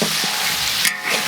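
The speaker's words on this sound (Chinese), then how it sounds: "来给它炒一下" Chili bean paste and dried Sichuan peppercorns sizzle steadily as they are stir-fried in a hot wok, with a continuous loud crackle and a few brief scraping stirs, no talk.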